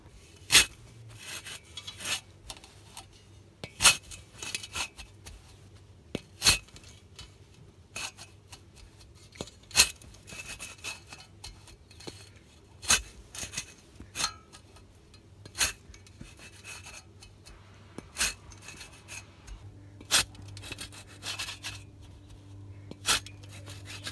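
A hollow tine core aerator works a Kentucky bluegrass lawn, giving off a steady run of sharp thuds and clicks over a low rumble.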